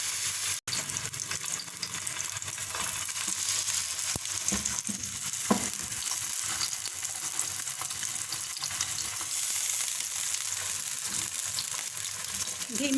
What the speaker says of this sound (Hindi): धीमी से दरमियानी आंच के ऊपर फ्राई कर देंगे बालों को।